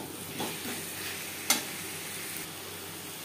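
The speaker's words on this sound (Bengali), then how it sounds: "আলু বেশ ভালো করে মিক্স করে দেব।" Potatoes being stirred into a spice masala in a pan for a pangas fish curry, a soft continuous scraping with low sizzling and one sharper knock of the spoon against the pan, alone with no voices.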